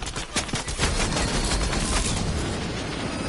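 Rapid SMG fire in Fortnite, fast bursts of close gunshots rattling in quick succession, loud and nearly continuous over the whole stretch.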